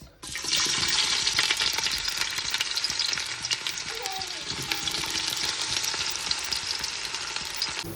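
Onions fry in a pot of ghee and refined oil, a close, steady and loud hiss of sizzling that holds evenly from start to finish after a brief quiet opening.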